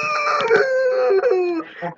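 Game chicken in Minecraft Skyblock, a clucking, crowing bird call with stacked tonal harmonics lasting nearly two seconds, loud and close, ending in a short lower cluck.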